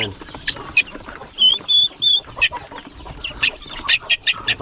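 Guineafowl, turkeys and native chickens on a small farm, with short clucks and a few sharper, piping calls coming in bursts close to the recorder over a quiet background.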